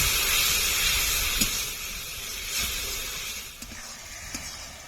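Masala spiced with salt and a spoonful of turmeric fries in oil for a bhola fish tel jhal, giving a steady, close, broad sizzling hiss that eases slightly over a few seconds, with no talk.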